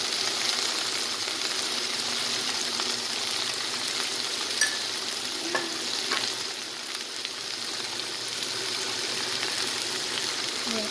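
Chili sizzling in a pan for coconut fish, a steady close hiss of frying oil with a few faint crackles running throughout, no voices.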